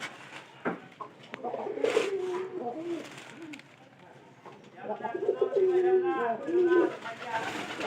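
Pigeons cooing in low, throaty bursts close by, in two main phrases, with someone talking over and between them.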